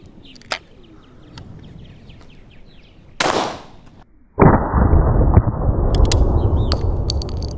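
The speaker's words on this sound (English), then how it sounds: "we just shot at this pattern board after using the shot fit" A shotgun fired at a pattern board, one sharp loud blast followed by a brief gap and then a sustained rushing noise, with faint bird calls and ticks in the background.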